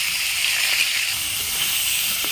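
Salted, turmeric-coated prawns fry in hot oil, giving a steady, close sizzling hiss that holds evenly throughout with no pauses and no voices.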